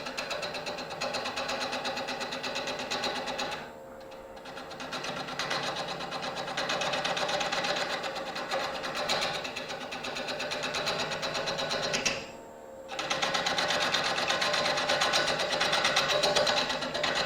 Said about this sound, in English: I've got my 3/8 spindle gouge, and I'm just going to clean up the diameter.